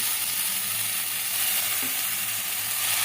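Water poured into sizzling fried masala for a Bengali tangra fish curry, a steady loud hiss of frying and bubbling filling the whole stretch, close up with no talk.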